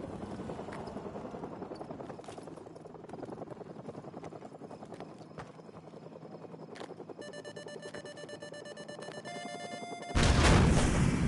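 An enemy attack helicopter in the Modern Warfare 3 campaign, its rotor thumping steadily at mid distance while electronic alarm beeps start and a loud burst of gunfire and explosions erupts at the end.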